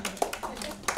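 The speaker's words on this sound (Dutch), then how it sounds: "applaus voor jezelf" An audience applauds itself at a talk show event, producing a few sparse, scattered claps within one second, fairly faint, with a voice briefly audible alongside.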